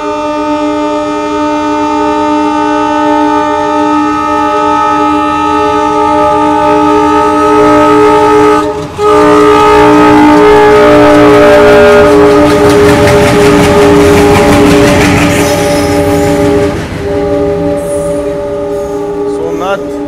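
A train stands at the Jodhpur station platform, giving a loud, sustained tonal drone that runs the whole time and swells briefly near the middle, over a background of platform bustle.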